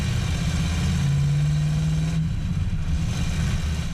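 A freshly restored classic car engine idles with a steady, beefy low rumble, close and continuous with no voices.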